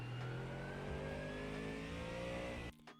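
GT3 race car engine in a racing video game at the Miami circuit, revving hard and steadily under acceleration, loud and close with a rising whine, then cutting off abruptly near the end.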